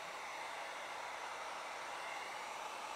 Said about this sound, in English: when you heat up, you keep the gun probably around this distance, maybe 6 inches or 12 inches from the surface that you want to heat up